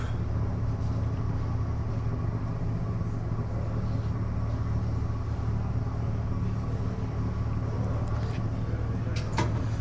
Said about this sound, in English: We're accelerating up to 50, and we have a hill coming up.